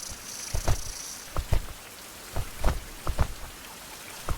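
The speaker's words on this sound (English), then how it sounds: "it's going to be dim while it's raining" Rain in the survival video game Survival: Fountain of Youth: a soft, steady hiss of rainfall broken by scattered louder drops and light thuds at uneven intervals, with no voices.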